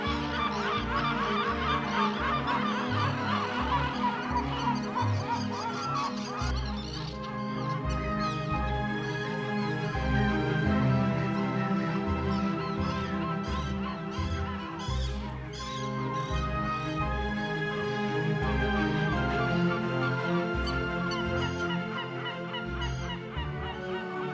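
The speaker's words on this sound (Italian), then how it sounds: "Anche i gabbiani approfittano di questa abbondanza." Seagulls calling in summer over the Maremma in Tuscany: a dense, continuous chorus of honking, mewing cries from many birds, loud and layered throughout with no talk.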